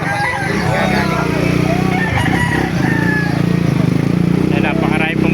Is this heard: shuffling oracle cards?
no